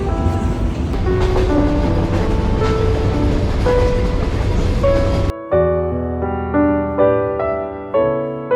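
A passenger train on the Dhaka to Kolkata run, leaving Jessore, rumbling loudly with a dense rolling clatter, then dropping away to a quieter cabin interior with music-like tones.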